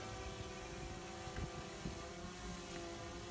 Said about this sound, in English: There's the aircraft, still hovering stable.